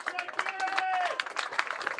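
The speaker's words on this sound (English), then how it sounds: "the usual enthusiastic applause from the members stand below us" Enthusiastic applause from the members stand at a Gloucestershire v Northants Steelbacks one-day cricket match, scattered clapping heard under a commentator's voice.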